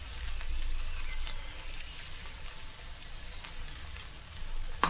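Okra frying in a pan as two eggs are added, a soft continuous sizzle with light crackle and a sharp clink near the end.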